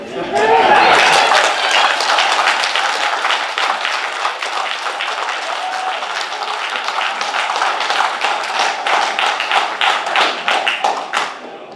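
An audience claps loudly at a county Board of Supervisors meeting. The applause rises quickly into a sustained burst of many hands, then thins toward the end, with voices talking underneath.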